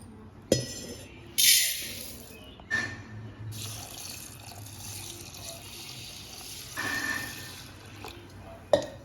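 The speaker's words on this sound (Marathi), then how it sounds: "इथे मी तांदूळ स्वच्छ धुवून घेतले" Rice being washed in water for idli, soft splashes, running water and occasional clinks of a vessel, fairly quiet and intermittent with a few sharper knocks.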